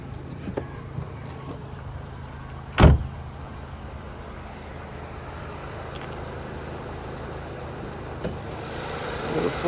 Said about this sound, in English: So that motor ticking over nicely.